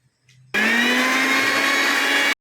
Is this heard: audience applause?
no